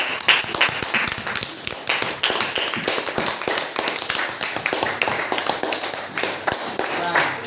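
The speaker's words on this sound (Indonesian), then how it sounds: "Tepuk tangan untuk kelompok 2." Schoolchildren in a classroom applaud a group, a steady, dense burst of many hands clapping close by for several seconds with chatter mixed in.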